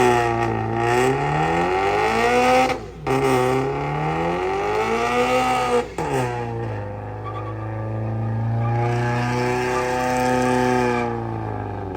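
A McLaren 720S supercar drives close by, its engine note sweeping up and down through repeated rising pulls broken by short gear-change dips, then settling into a steadier cruise. No one speaks.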